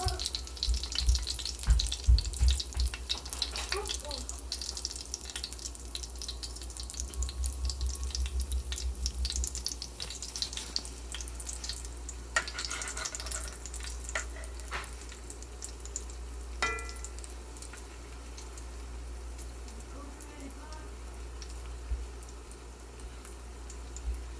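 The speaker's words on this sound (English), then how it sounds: "now it's starting to fry up pretty good" Food frying in oil crackles and sizzles steadily for the whole stretch, with sharper pops and bursts clustered early on over a low constant hum, fairly close and moderately loud.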